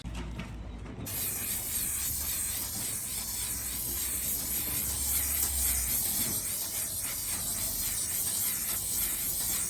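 Clear lacquer from a spray can hisses onto a Land Rover Discovery 5 HSE Lux in one continuous, close, steady burst that lasts nearly the whole stretch.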